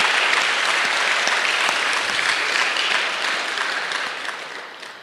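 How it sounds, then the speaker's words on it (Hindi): Sustained crowd applause at a blood donation gathering during a saint's birth anniversary celebration, a dense, steady clatter of many hands that holds for several seconds and then tapers off slightly toward the end. "तालियों की गड़गड़ाहट करें।"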